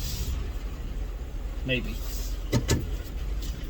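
Street traffic passes in the rain, vehicles swishing by in a steady hiss with a brief nearby car sound, while a person speaks over it.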